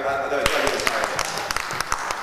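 A church congregation applauding during a service, sharp irregular hand claps growing denser over a murmur of voices and room noise.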